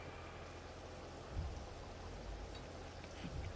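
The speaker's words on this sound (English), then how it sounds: "Oh, it's raining now." Rain falls in Farming Simulator 22 as a steady, soft wash of broadband hiss, fairly quiet and constant, with a couple of faint low thumps rising briefly through it.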